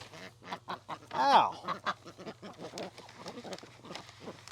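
Backyard ducks quacking at a garden homestead, a rapid run of loud raspy quacks near the microphone, with a person talking over and between the calls.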